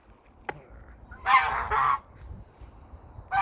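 A few loud goose honks in two quick bursts at an allotment, then a pause, and another honk at the end, over quiet outdoor background.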